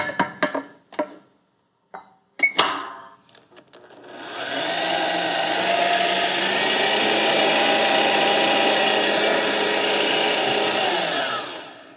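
A kitchen mixer works Italian dough, starting after a few scattered clatters and then running as a steady, loud, continuous whir.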